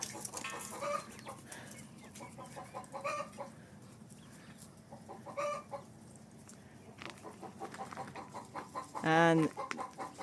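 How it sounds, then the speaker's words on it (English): Backyard chickens and young chicks cluck and peep in scattered bursts at close range, with one louder squawking call near the end over a low background hum. "We now release the chicks."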